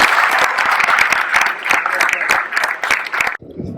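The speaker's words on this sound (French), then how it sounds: "je pense qu'on peut les applaudir vraiment très chaleureusement" Warm crowd applause at a local community association event, loud close clapping with distinct hand strikes for several seconds before cutting off abruptly near the end.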